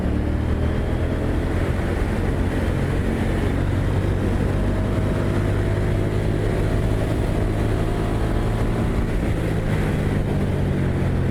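A KTM 790 Duke parallel-twin motorcycle engine revs smoothly, a steady, loud drone whose pitch climbs slowly and evenly with no break.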